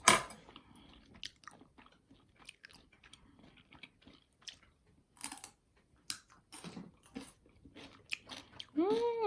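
Someone eats a home-cooked pot-rice meal, with soft, close chewing and occasional crunchy bites spread out in short bursts amid quiet pauses and a few spoken words.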